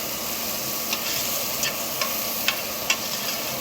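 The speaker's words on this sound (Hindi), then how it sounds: "तो कैबिज डालने के बाद इसको कुक करेंगे। अच्छे से इसको मिक्स कर लेना है।" Cut cabbage stir-fried for egg fried rice, a steady close sizzle with a few light scraping clicks of the spatula spaced through it.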